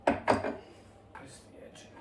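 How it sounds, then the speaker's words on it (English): Two sharp metallic taps of a screwdriver against a crank gear on a CB Performance 2017cc engine build, close and distinct, followed by a softer knock after a pause. "I'm going to try tapping it again with the screwdriver"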